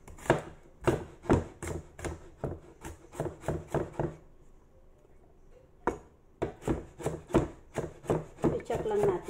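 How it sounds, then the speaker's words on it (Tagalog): Garlic chopped on a board for an okra dish, with quick rhythmic knife strikes, close and crisp, a pause of about two seconds in the middle, then another fast run of chops. "mag-cut ako ng garlic"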